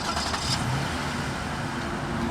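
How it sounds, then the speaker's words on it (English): A 2017 Toyota Sienna Limited Premium engine turns over and settles into a steady close idle after a remote start, with a continuous low rumble and no talking. "That's your remote start."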